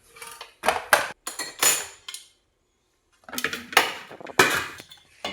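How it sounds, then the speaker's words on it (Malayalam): Pork mixture scraped and tipped from a pot into a clay pot for a homestyle Kerala pork curry, with several close bursts of utensil scraping and clinking, a pause in the middle, then more scraping and knocks against the pot. "ഇപ്പോൾ ഇത് നമുക്ക് ചട്ടിയിലേക്ക് മാറ്റാം"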